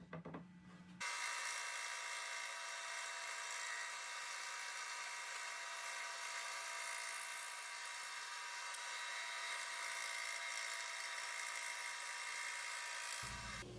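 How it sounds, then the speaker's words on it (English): A bandsaw cutting a leaf shape out of a wide wooden board, giving a loud, steady high whine that holds for over ten seconds before stopping. "I trace out the design on a wider board and will cut it out on the bandsaw"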